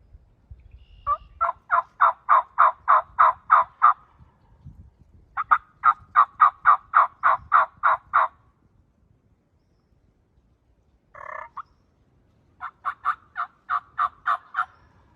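A wild turkey gobbler on a ridgetop gobbles in rapid, rattling bursts, several long series with pauses between, clear and fairly near over quiet woods.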